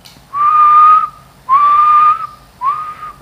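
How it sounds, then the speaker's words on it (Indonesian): Three loud, clear whistled tones in a row into the microphone of an ICOM IC-718 HF transceiver, each held steady for about half a second to a second, with short pauses between. "kalau kita siul lebih kenceng lagi ya"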